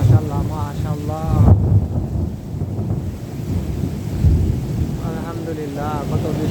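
Heavy night rain pours steadily while thunder rumbles low beneath it, and a person speaks over the downpour at several points.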